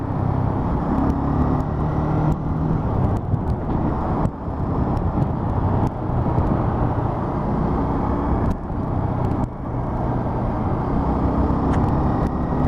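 Road traffic on an Ontario highway, a continuous loud roar of tyres and engines heard from inside a moving car, with wind buffeting and occasional passing vehicles whooshing by.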